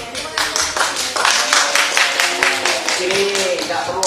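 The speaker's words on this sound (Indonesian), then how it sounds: "Sini tidak perlu ada tepuk tangan" Applause breaks out in a courtroom at a court hearing, a dense burst of many hands clapping steadily for several seconds, with voices mixed in.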